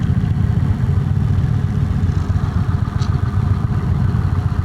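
A 2025 Indian Springfield Dark Horse motorcycle idles close by, its engine a steady, loud low rumble with an even throb that never changes for the whole stretch, with no talking over it.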